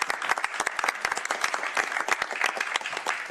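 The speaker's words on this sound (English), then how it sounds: "So a round of applause, if we could, for all of our folks." A small group at a county board of commissioners meeting claps for staff, with distinct individual claps forming brief, moderately loud applause.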